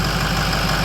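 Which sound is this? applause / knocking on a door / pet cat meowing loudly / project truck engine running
project truck engine running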